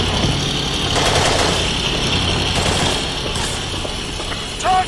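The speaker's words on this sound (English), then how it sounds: "Mortars." Mortar and gunfire rumble through a Battlefield 2 Modern Combat battle, with bursts of shots and dull thumps over a constant engine-like drone, moderately loud and continuous.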